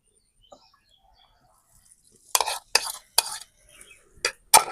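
Flour batter for frying paneer is whisked in a bowl after near silence, giving a handful of sharp, separate scraping strokes that grow louder and come at an uneven rhythm.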